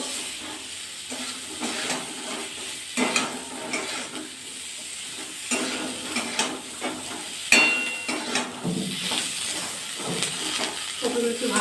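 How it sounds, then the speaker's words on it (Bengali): Cauliflower florets frying in a wok for an egg, cauliflower and potato curry sizzle continuously, with spatula scrapes and clatters recurring throughout while someone talks intermittently over the cooking. "কপিগুলো ভাজা করে নেবো"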